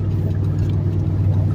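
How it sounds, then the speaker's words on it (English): A big, raised V8 truck drives with a steady, low engine rumble that holds even and close throughout, with no voices. "it's a big truck. It's a big old V8. It's raised up."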